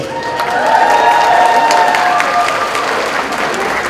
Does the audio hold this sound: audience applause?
yes